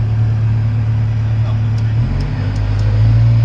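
A brand-new Cat 320 Next Gen excavator's diesel engine runs close by as a loud, steady, low rumble. Its pitch drops slightly partway through and then holds.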